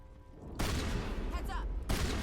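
Gunfire in the sci-fi game Mass Effect Legendary Edition: a sudden loud burst of rapid shots, a brief pause, then another burst, with some muffled voice-like sound in the mix.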